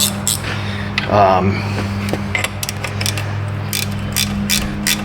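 A ratchet wrench is handled in a repair shop, giving scattered mechanical clicks and a short ratcheting burst over a steady low hum, while someone talks.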